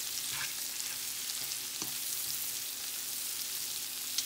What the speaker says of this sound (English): Now we're going to just mix it around. Make sure it gets all coated well.